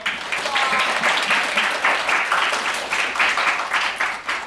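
An audience at a youth camp concert applauds in a lively, pulsing burst of many hands, with faint voices and cheers mixed in under the clapping throughout.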